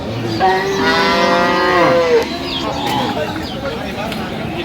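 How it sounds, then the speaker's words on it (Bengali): A dairy cow moos loudly and close by at a busy cattle market in Dinajpur, one long drawn-out bellow over a steady murmur of crowd noise and distant voices. "বেশ সুন্দর গাভী বাছুর।"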